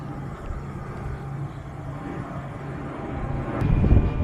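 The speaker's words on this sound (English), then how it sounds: "Wait for the plane to pass." An airplane passes over Fort Mifflin in Philadelphia, a broad, steady rumbling roar that swells louder toward the end, heard outdoors with no talking.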